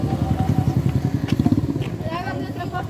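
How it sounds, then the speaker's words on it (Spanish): A motorcycle engine rumbles past on a street at a Salvadoran snack stall near Puerta del Diablo, its pulsing low throb swelling and fading over about three seconds while people talk nearby. "cuidado, cuidado con la moto."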